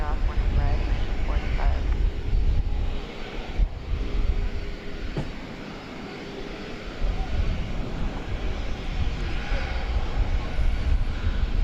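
An Airbus A350-1000 airliner at DFW Airport produces a continuous low engine roar and rumble that swells and eases over several seconds, with a person speaking over the noise.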